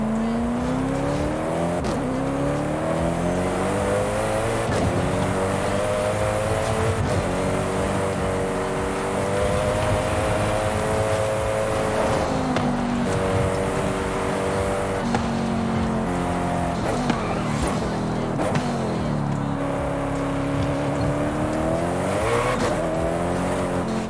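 A Koenigsegg Agera hypercar is driven in the racing game Forza Horizon 5, its engine revving loudly and continuously, with the pitch climbing and falling through gear changes, along with occasional tire squeal.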